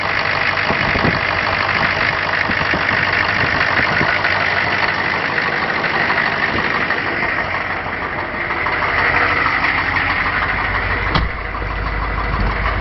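A freshly repaired car engine idles at low revs, a steady mid-pitched rumble with a faint knocking texture, close and continuous with no talk.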